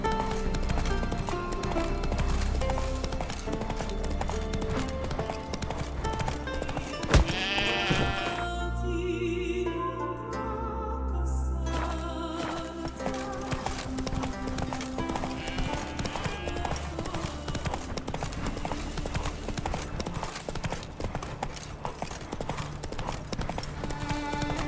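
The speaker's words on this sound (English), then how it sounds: "Run, Roach." Horse hooves clip-clop at a steady pace in The Witcher 3, a continuous rhythmic beat under a dense, loud game soundscape with music and ambience, with sheep bleats briefly in the mix.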